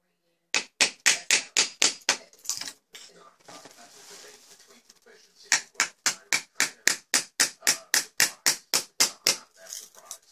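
Sharp hammer blows strike in two quick rhythmic runs while prying up carpet strips in a closet, separated by a pause filled with scraping and rustling, close by.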